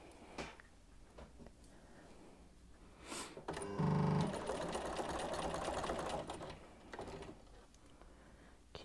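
A sewing machine runs a quarter-inch seam on a quilt block. The motor whirs in one sustained run of a few seconds, with handling clicks and rustles before and after.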